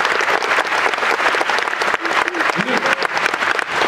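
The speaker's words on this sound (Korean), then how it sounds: "박수 한번 보내주셔야죠." Studio audience at a television talk show breaks into steady, dense applause, with some voices and brief vocal sounds audible beneath the clapping.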